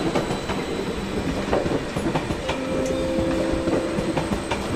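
An IC train rolls into Stuttgart Hauptbahnhof with a steady rumble of wheels on rails, faint clicks and a thin high squeal from the wheels, continuous and fairly close.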